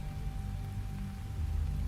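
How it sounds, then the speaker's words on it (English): Heavy storm rain pours steadily and densely, a continuous hiss of rainfall on surfaces with no voices, loud and unbroken across the short stretch. "The rainfall was overwhelming, to the point where I was soaked almost instantaneously"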